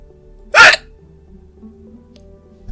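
A single sharp, loud hiccup bursts out near the start from an artist drawing a pig, followed by quiet faint room noise and soft low hum.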